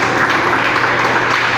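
A church congregation applauds in a thick, continuous wash of clapping, loud and close, with no break across the short stretch.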